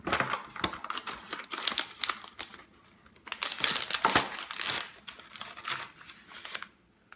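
Crinkling, crackling plastic and papery rustles from an MRE flameless ration heater heating up come in bursts close by, fading to quiet between episodes, with no voices.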